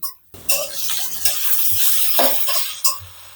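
Chopped onions fry in a pan with garlic, a close, steady sizzle broken by a few louder stirring scrapes and spatter bursts.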